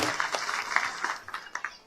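An audience claps to welcome MLA Gopichand Padalkar at a village speech event, with a brief burst of scattered, moderately loud applause that thins out toward the end.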